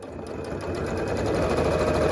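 A sewing machine hems fabric for a window seat cushion, a close, loud, rapid mechanical whirr that steadily builds in level over a couple of seconds.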